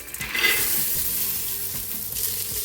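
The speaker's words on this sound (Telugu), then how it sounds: "ఆయిల్లో బాగా ఫ్రై చేసుకోవాలి." Black-eyed peas frying in oil with green chilies, a steady close sizzle with soft stirring scrapes, no talking.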